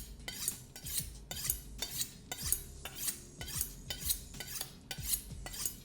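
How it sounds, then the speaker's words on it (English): A knife blade is drawn repeatedly along a metal honing steel in full sweeping strokes, about a dozen crisp, bright metallic scrapes in a steady, even rhythm, close and clear with no talking. "running the knife all the way down and across so that you get in one fell swoop the whole knife making contact with the honing"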